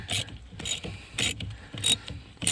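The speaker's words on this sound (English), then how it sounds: "I'm going to get my wrench over here. Okay, and it should just go into place." A ratchet wrench clicks in repeated short bursts, about five pulls in quick rhythm, tightening a bolt during a 2014-2016 Kia Soul transmission replacement; close and clear with no talk.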